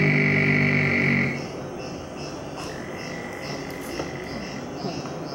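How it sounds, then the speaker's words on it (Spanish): A common toad's sustained high, melodious trill rings out for about a second, then fades, leaving faint scattered calls and chirps over a quiet outdoor background. "es el sapo común, tiene un sonido más agudo y más melodioso"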